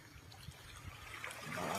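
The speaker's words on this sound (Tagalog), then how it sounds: "Napakaganda po ng alon dito. Ito po magandang beach." Sea waves wash onto a beach in a soft, continuous rush of water that swells gradually louder toward the end, heard faintly from a short distance.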